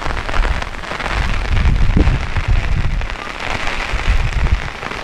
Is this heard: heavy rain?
yes